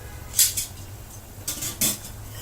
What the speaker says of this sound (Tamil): இப்போ இறாவை சேர்க்குறேன்